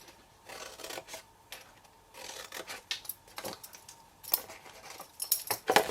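Card being cut for a bag, giving irregular scraping and snipping strokes in short bursts, close by, with a couple of sharper clicks near the end.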